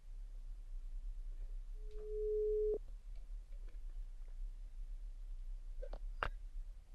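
Faint phone-line tones over a low steady hum: a single held beep, then a few short clicks and blips, heard quietly and alone.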